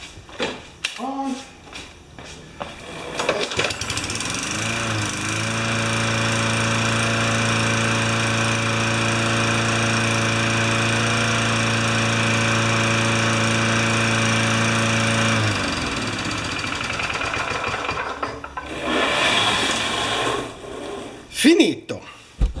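An old Yard Machines lawn mower engine starts and runs at a steady, droning idle for about ten seconds before shutting off, with handling noises and clatter before and after.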